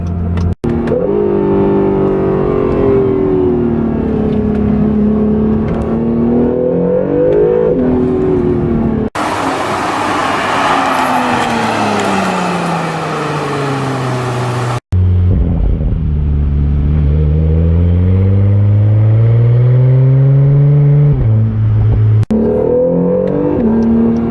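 A 2017 Acura NSX engine hums and revs while driving, rising and falling in pitch as it accelerates, with a brief harsher burst of roaring midway.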